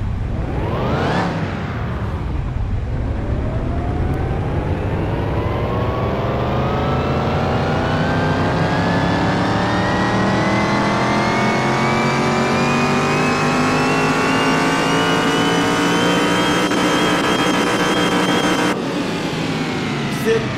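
A custom Hot Wheels-style Chevrolet El Camino engine revs hard and continuously, its pitch climbing steadily over about twenty seconds after a short dip, loud and close with a rough, sustained roar.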